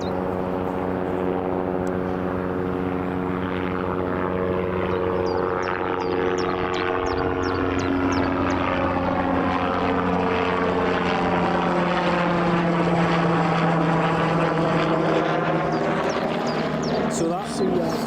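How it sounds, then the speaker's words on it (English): A TUI airliner touching down and rolling out at Newcastle International Airport after a flight from Naples, a steady loud engine roar with propeller-like tonal hum lasting throughout, heard from nearby outdoors with faint talk underneath. "that TUI that's just landed from Naples"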